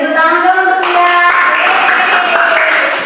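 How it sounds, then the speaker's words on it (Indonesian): Students in a classroom break into brief applause for a classmate, dense clapping swelling then fading as a sustained tone fades out beneath it. "Baik, tepuk tangan dong untuk dia."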